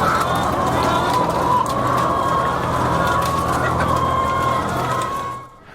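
Caged egg-laying hens on a large industrial farm in Latvia fill a hangar-like shed with dense, continuous clucking and squawking, a loud, steady wall of many birds at once.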